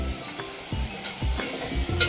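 Country-style village chicken sizzles and fries in oil while being stirred, with a steady crackling hiss broken by repeated scraping stirs at a regular beat, close and fairly loud, with no talking.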